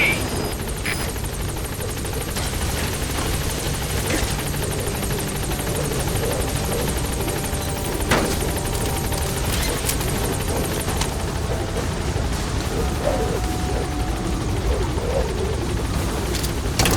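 A Pequod helicopter in Metal Gear Solid V holds a loud, steady rotor drone while on station over the landing zone, continuous and close with no talk.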